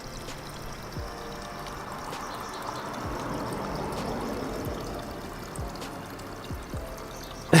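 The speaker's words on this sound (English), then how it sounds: "Okay, let's pour them in." Water pours and trickles steadily into a backyard duck pond at low volume, with a few soft splashes and drips scattered throughout.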